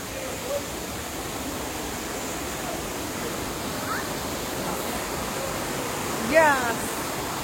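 Steady rushing of a Meghalaya stream tumbling over stones, a continuous close broadband wash with no pauses, alone apart from a brief faint sound near the end.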